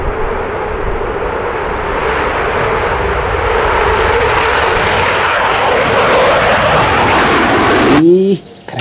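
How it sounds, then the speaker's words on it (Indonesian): A toy fighter jet gives a loud, steady airplane-like engine roar, building slightly, then cuts off abruptly near the end with a short squeaky chirp. "Wow, ada pesawat tempur."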